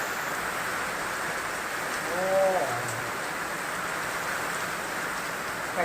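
Heavy monsoon-style rain pours down in a steady, dense hiss, with a brief bird call partway through and a faint voice in the background.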